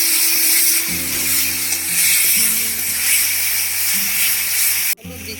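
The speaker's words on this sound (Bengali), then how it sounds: "এবার আমি ভালো করে মশলাটা ভেজে নেবো" Spices with turmeric and salt sizzle and hiss steadily in a pan over a wood-fired clay stove after tomatoes are fried. The frying is loud and close, with a low hum beneath and a brief knock near the end.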